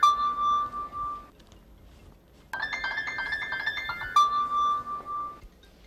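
A phone rings with an incoming call: a steady electronic tone repeats in two bursts separated by a short pause, then a denser warbling ring pattern, all fairly loud and alone with no talking.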